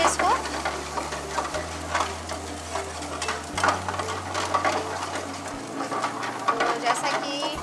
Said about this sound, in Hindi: तो इसे ब्राउन होने तक बस हम भूनेंगे इसको।